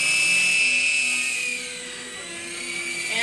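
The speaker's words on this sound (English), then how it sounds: "Flies pretty good, way better than a hefty heli" A small 3-channel RC toy helicopter flies close by with a thin, high electric whine that dips slightly in loudness partway through and then rises again.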